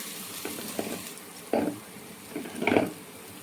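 Fish added to hot oil with onion and ginger, frying in a pan: short bursts of sizzling and spattering close by, swelling into a louder sizzle near the end over a quiet background.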